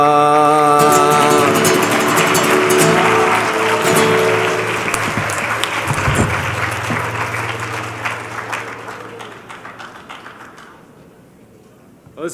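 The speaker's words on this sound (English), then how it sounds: "Let's give one more big round of applause to Keya and Francisco." An audience at a justice conference session claps and cheers loudly, the dense applause slowly fading over about twelve seconds while sustained musical tones linger at the start.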